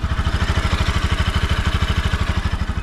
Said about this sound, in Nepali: यस्तै फ्रेस साउन्ड यो बाइकबाट निकाल्ने